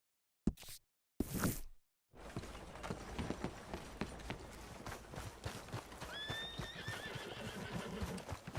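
Horse neighing and whinnying in Red Dead Redemption 2, with hoof clip-clops of a galloping horse beneath; a couple of short loud bursts open the clip before steady hoofbeats and game ambience run throughout.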